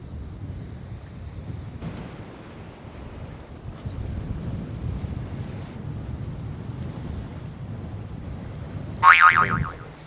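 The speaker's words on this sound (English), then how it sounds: "It's too windy." Strong wind at the beach gives a steady low rumble buffeting the microphone throughout, with surf-like washes underneath and a brief sharper burst of noise near the end.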